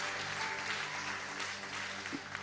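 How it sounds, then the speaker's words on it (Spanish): Steady applause from a church congregation, even clapping that holds at a moderate level throughout. "Denle un aplauso al Señor"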